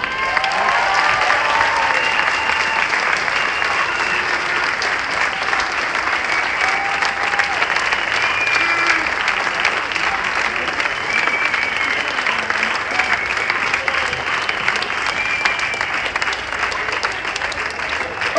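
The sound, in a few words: crowd applauding at protest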